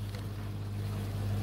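A boat engine runs at a steady, continuous drone with a low, even hum, heard in open air at sea during a kayaking trip on the Indian Ocean, with no talk over it.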